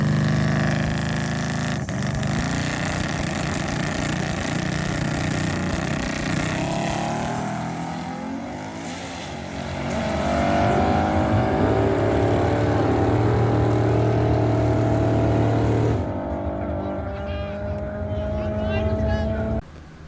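A boosted drag car with raised launch RPM makes a pass down a drag strip, its engine howling loud and sustained as it climbs through the gears, with voices talking over it.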